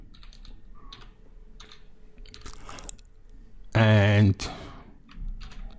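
Typing on a computer keyboard, with light clicking keystrokes in short clusters, close by and fairly quiet, broken by a brief loud tonal burst, while a voice speaks a word.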